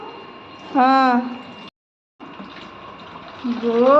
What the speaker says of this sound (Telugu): నీళ్ళు పడుతుంది మా పాప.